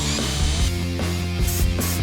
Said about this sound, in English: just keep sanding till it meets his perfectionist standard